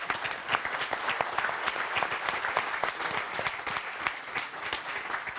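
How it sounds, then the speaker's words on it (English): Sustained audience applause for panelists in a conference hall, a steady, dense patter of many hands clapping at moderate level throughout, without talk. "a round of applause for our panelists"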